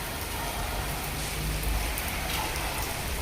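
Steady, dense rain falling in Rajkot during a monsoon downpour, a loud, even wash of drops on surfaces with no pauses.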